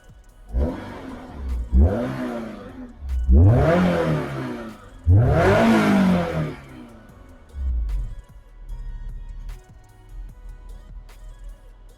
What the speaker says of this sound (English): we go ahead and we push the push start